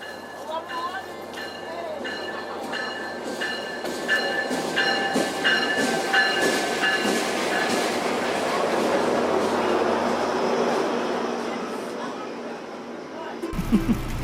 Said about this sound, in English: So here we are riding the train home in the dark